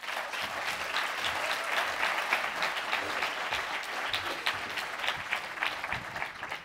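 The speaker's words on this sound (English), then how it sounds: "please give a round of applause for our two co-managing directors, Jean-Philippe Bonardi and Michael Acklin" Audience applause at an annual summit, a steady, dense wash of clapping that holds at an even level from start to finish without a break.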